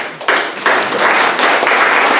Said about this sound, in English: let's give these two fine gentlemen a round of applause